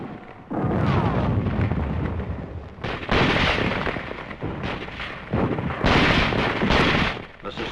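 Sustained gunfire in a wartime combat action as troops flush enemy soldiers from a wooded area, heard as loud, dense bursts and booming reports that continue in waves with brief lulls throughout.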